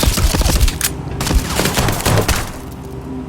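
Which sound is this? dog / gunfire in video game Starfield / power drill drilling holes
gunfire in video game Starfield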